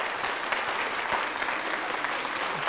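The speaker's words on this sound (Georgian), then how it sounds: "აპლოდისმენტები ნატალის" Quiz show audience applauding contestant Natali at a European school, a steady, fairly quiet patter of many hands clapping continuously with a few sharper individual claps and no talk.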